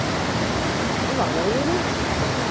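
Water rushing steadily along a stream channel below a power station beside a road, a constant loud broadband roar with no breaks, a faint voice briefly audible under it.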